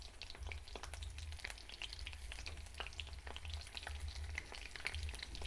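Okra pieces fry bhaji-style in a pan of hot oil, a quiet, steady crackle with scattered small pops and spits and a low hum underneath.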